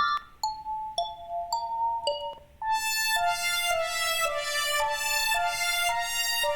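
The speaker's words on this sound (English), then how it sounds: "That's the brass section." Bright synthesized brass stabs play a short melody, first sparse single notes, then fuller sustained chords with a rich, buzzy timbre.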